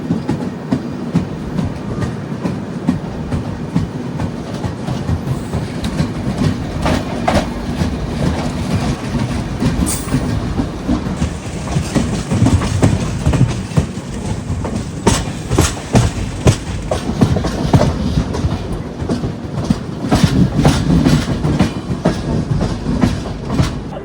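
The Jamnagar–Tirunelveli Express running on the Konkan line near Sangameshwar Road station, heard from on board as a continuous loud rumble with rhythmic wheel clatter over rail joints throughout.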